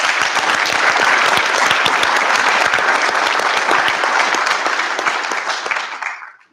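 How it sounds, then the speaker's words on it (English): Audience members at the City of Moline State of the City address give a round of applause, a strong, dense burst of many hands clapping that holds steady for several seconds before fading quickly away. "Give them a round of applause"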